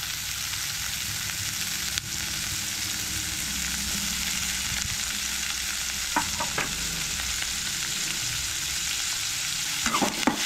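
Onion and green chili sauté in a pan with mustard seeds for a Goan jackfruit bhaji, a constant close frying hiss with a few faint utensil clicks toward the end.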